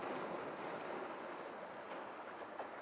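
Ocean waves surging against a rocky coastline, a steady broad wash of surf close by with wind buffeting the microphone, no voices.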